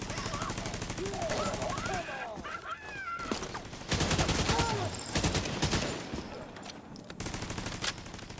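Automated turret deployed in The Division 2 video game fires rapid bursts of gunfire, loud and close, with short pauses between volleys amid busy game sounds.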